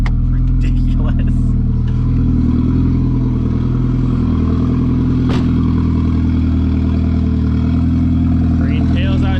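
A Mk3 car with a turbo idles steadily and loudly, a deep rumbling hum close to the microphone, with brief clatters and people talking over it.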